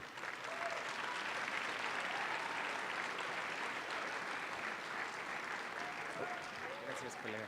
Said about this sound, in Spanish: Por favor, un aplauso a Horacio y a Ariel Rojo.